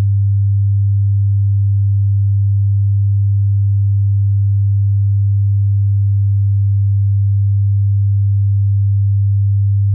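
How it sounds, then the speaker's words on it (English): A steady, low-pitched 100 Hz pure sine tone hums continuously and evenly at constant loudness, alone, with no variation throughout. "I'll play the 100 Hz sine wave through an oscilloscope plugin."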